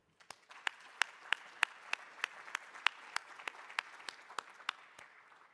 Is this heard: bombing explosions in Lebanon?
no